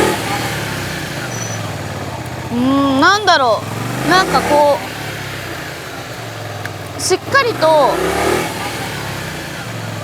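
A motorcycle ridden during braking practice using only the front brake, its engine rising and falling in revs with short accelerating bursts, moderately close, while someone talks over it.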